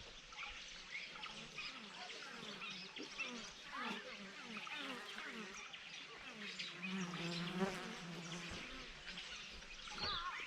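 Bees buzzing around traditional beehives in African acacia bushland, a continuous layered drone with birdsong and background outdoor ambience, the buzzing swelling louder toward the end.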